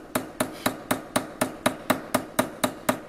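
Rawhide mallet tapping a brass stamping on a hard block while shaping a bracelet: about a dozen crisp, evenly spaced knocks, close and fairly loud, with no talking.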